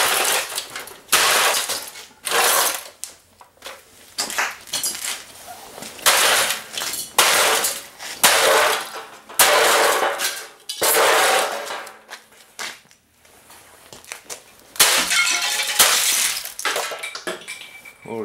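An Aiwa CD/cassette player smashed apart for scrap, with its aluminum and metal pieces breaking: repeated loud cracking, clattering and rattling blows in irregular bursts, close up, with brief pauses between.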